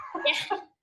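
A person sneezes during a video call, a single short sharp burst in two quick parts, close and clear, then silence.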